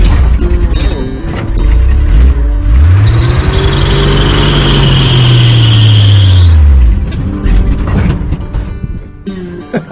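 A Jeep CJ5, driven out with a crescent wrench still attached, runs loud and close with mechanical rattling; its engine tone swells, holds for several seconds and fades back to clattering.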